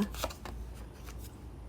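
Tarot cards are handled and a card is drawn from the deck, giving soft close papery slides and flicks, with several brief swishes over a quiet background.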